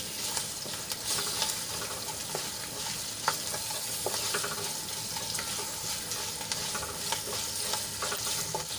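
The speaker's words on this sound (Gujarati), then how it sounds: "તો મરચાં આપણા થોડાક સંતળાઈ ગયા છે" Steady, loud sizzling of chilies frying in oil fills the whole stretch, with occasional clinks and stirring scrapes on top.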